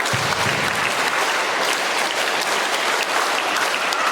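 An audience at an Islamic religious talk claps along on a leader's call for a counted clapping pattern, producing dense, loud, continuous clapping where no distinct rhythmic beats stand out.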